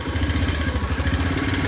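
A motorcycle engine idles steadily just after being self-started, rumbling close and loud with an even, throbbing rhythm and no talking over it.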